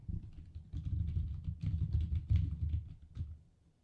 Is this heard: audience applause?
no